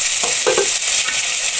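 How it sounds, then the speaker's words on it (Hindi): Chopped tomatoes with ground coriander fry loudly in a pan for an aloo matar curry, a constant close sizzle broken by a few quick stirring scrapes, with no talk. "अब मैं टमाटरों को भून लूंगी थोड़ी देर"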